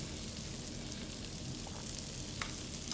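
Carrots fry in a pan for a vegetable chop suey, a soft steady hiss of sizzling oil with a few faint clicks from stirring.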